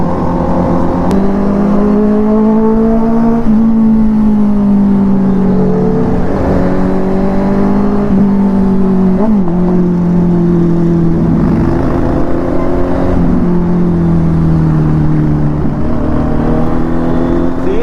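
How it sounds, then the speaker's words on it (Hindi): Honda CBR650R and Kawasaki H2 motorcycles rev hard together, a loud sustained engine roar with pitch rising and falling in waves over nearly eighteen seconds, close by, no talking. "अब कंपेयर करो आप कि CBR लाउड है कि H2।"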